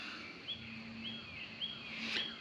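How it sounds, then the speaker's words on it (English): Birds sing faintly in the Caddo National Grasslands in Texas, with three short repeated chirps at even intervals and a brighter call near the end over a low steady background hum. "You hear all the birds?"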